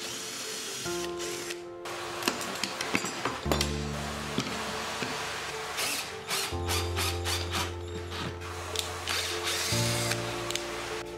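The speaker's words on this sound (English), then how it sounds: "Put the square metal on the slot made before, then drill it." A power drill bores into square metal laid in a slot in an HMR board, with whining motor bursts that change pitch and rattling, clinking handling noises in between.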